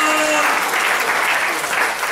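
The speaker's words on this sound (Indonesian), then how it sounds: "Berikan tepuk tangan yang meriah buat Tuhan" A church congregation at a Sunday morning service gives loud, sustained applause, a dense and even roar of many hands that carries on through the whole clip.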